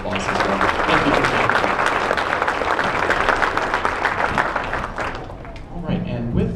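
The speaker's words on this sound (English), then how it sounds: "So let's give them another round of applause as well." Steady, full applause from an audience at a middle school concert, loud and continuous before tapering off near the end.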